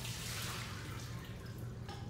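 Water pouring steadily into the pour cup of a mold, a continuous close trickle and splash with no talking over it.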